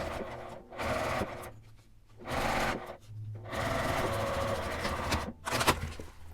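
Sewing machine stitching a zipper onto a nylon pouch, running in three bursts of rapid, steady needle chatter separated by short pauses, close and alone.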